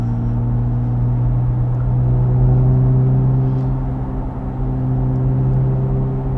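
A Chevrolet C8 Corvette Z06 with track exhaust pulls away under light throttle, a steady close-up engine drone with a deep, even hum that swells slightly midway and holds smooth throughout, no talking.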